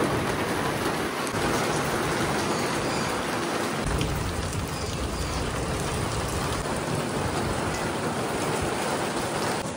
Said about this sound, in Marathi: पाऊस जबरदस्त पाऊस आलाय आणि लाईटनिंग वगैरे पण होते